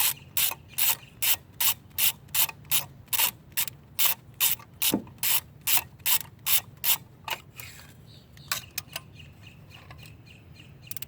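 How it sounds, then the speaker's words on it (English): A ratchet socket wrench loosens a spark plug on a misfiring BMW 528i, clicking through about twenty quick, evenly spaced strokes close up before giving way to softer scraping and twisting as the plug comes free. "let's put a little torque on it, and we're going to see how that, once it's loose, you can just basically twist it"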